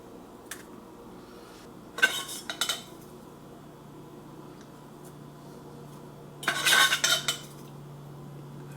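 A tablespoon scooping coffee grounds into a Mr. Coffee 14-cup coffeemaker, with two short clusters of close metallic scraping and clinking separated by a quiet pause, over a faint steady hum.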